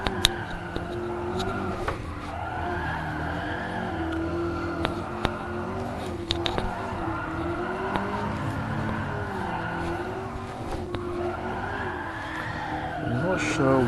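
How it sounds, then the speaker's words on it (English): Continuous tire squeal from a McLaren MP4-12C drifting in GT Sport, a sustained wavering screech over steady engine drone with a few sharp clicks, loud and close throughout. "See whether I can do a bit of drifting here."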